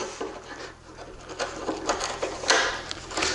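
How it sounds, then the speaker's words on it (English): Chisel hogging out the corner of a wooden faux beam being distressed for an aged look, heard as a close series of short scraping, patting cuts at an uneven rhythm, fairly quiet. "I'm kind of hogging that out a little bit with the chisel"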